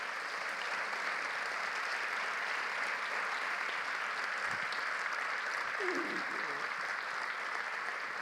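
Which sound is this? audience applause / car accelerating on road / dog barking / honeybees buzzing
audience applause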